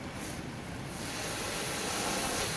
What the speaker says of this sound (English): You want to spray at a downward angle so that you're not spraying things into the coil.